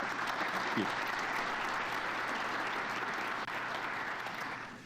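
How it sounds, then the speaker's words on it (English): Sustained applause from a large audience at J.D. Vance's speech in Munich, steady and dense throughout, tapering slightly at the end. "I hope that's not the last bit of applause that I get"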